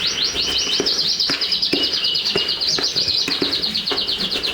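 Pet canaries at home sing with a continuous bright twittering of quick, repeated chirps and trills, loud and close, with no talking.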